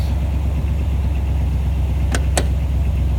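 A car engine runs at a steady, close idle with a constant low rumble throughout, and two brief sharp clicks sound near the end.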